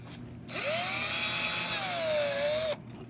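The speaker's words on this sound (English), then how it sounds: "So we do have to drill a little hole for that." A power drill bores a small hole in a guitar body to mount a Seymour Duncan P90 pickup, a single high whine of about two seconds that rises and then dips slightly as the bit bites.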